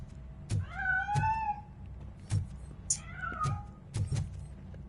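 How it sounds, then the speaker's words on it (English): A cat hiding inside a piano in a video game gives two drawn-out meows over a low background rumble with occasional knocks and thumps. "That cat must be hiding inside."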